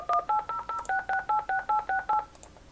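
A toll-free number dialed on a telephone keypad: a quick, evenly spaced sequence of about thirteen clear dual-tone beeps, loud and close, with nothing else heard.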